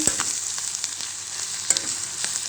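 Masala being stirred into an egg curry frying in a pan, a steady close sizzle with a few scraping strokes of the spoon, no voices.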